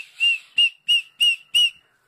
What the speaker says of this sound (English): And this is also a whistle.